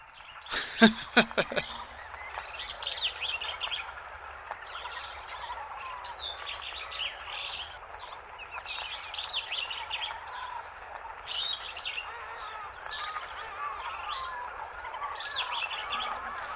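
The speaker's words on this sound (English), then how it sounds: "Mary Elizabeth sent me this recording of songbirds." Songbirds sing in a steady outdoor chorus of chirps and tweets, with a few louder, sharper calls near the start and fainter overlapping song throughout.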